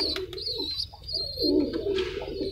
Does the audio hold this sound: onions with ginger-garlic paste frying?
no